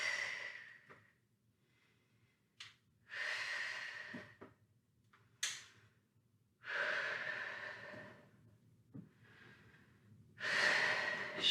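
Heavy breathing during a resistance training workout: slow, deep breaths in and out, close and loud, each lasting a second or two with quiet gaps between them, plus a few short sharp sniffs.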